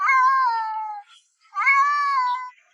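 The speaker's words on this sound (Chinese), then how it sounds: "8条嗷嗷搁那哭。" A young cat meows twice in long, drawn-out cries, each lasting about a second with a short pause between, close and clear against a silent background.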